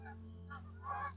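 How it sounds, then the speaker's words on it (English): Geese honking near a garden pond, a few calls standing out faintly against a steady low hum, louder toward the end. "There go the geese."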